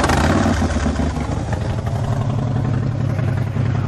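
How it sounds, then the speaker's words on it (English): A 2009 Harley-Davidson Dyna Fat Bob Screamin' Eagle FXDFSE with 7,763 miles rumbles loudly and close, a deep, steady V-twin roar with a rough, lopey throb that holds strong without pause. "let's hear this baby roar"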